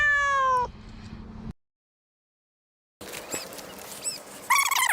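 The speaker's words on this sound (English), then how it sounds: "Meow. Kitty, kitty, kitty." A cat up in a tree meows several times, clear high-pitched wavering cries at the start, then a stretch of silence, then fainter scattered mews ending with a louder, close meow.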